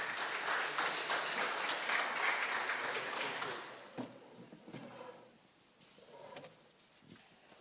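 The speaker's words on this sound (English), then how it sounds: "Let's have a round of applause for Coach Hoggard and the Aces of Edenton." Audience applause for Coach Hoggard and the Aces of Edenton, a high school football team, at a media day event: dense sustained clapping from a crowd that fades after a few seconds into scattered claps and light room noise.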